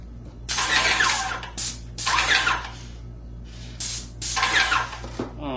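Several loud, sharp hissing bursts from an InoKraft Maxpray airless paint sprayer painting a door, each lasting about a second, over a constant low mechanical hum.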